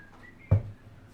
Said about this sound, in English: Just sat in the long grass nearby, just whistling.